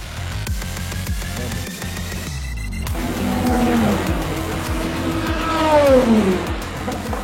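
Race cars sweeping through the Porsche curves at the 24 Hours of Le Mans circuit, engines rising and falling with Doppler pitch swoops as cars pass, one sharp cut mid-way and a louder pass toward the end.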